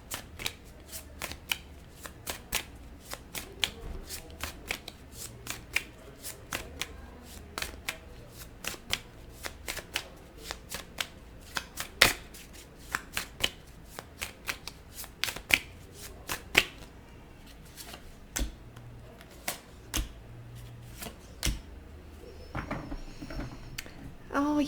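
Tarot cards shuffled by hand during a reading, a long run of crisp riffling snaps and flutters repeating at irregular intervals, close and fairly quiet over a soft room background.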